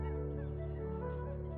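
Geese honk continuously in a nasal, droning chorus in Spanish coastal wetlands, steady and fairly close, with no other sounds breaking through.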